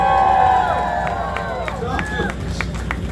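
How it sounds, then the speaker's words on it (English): A crowd at a renaissance festival juggling show cheers and claps loudly, with whoops and a dense wash of voices and applause throughout. "Juggling, that's a cue to cheer."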